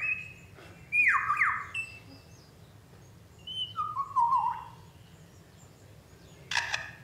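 A forest lyrebird mimics a camera shutter among its squawks and descending whistles, ending in a sharp, noisy click-burst. The calls come in loud, close phrases separated by quiet gaps.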